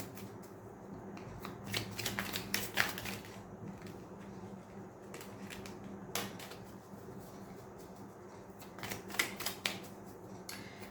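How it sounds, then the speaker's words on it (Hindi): Tarot cards riffle and slap together in repeated quick bursts, then single cards are slid out and laid down, a close, dry papery flutter with short pauses between shuffles. "मैं जस्ट लास्ट कार्ड एक निकाल लूँ।"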